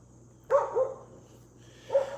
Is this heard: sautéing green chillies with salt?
no